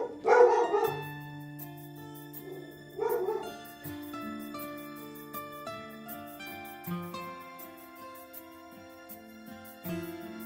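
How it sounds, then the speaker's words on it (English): A dog barks in a few close bursts, the loudest at the start and another around three seconds in, then again near the end, over sustained tonal music. "Don't start barking."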